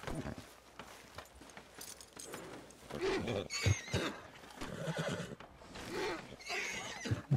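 Roach, a large horse in the video game Red Dead Redemption 2, whinnies and snorts in several close bursts, with soft hoof clops and a faint jingle of tack between them.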